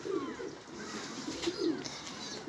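A white pigeon-like bird caught and kept in a coop on a balcony coos in low, soft repeated phrases, close by, over steady background noise.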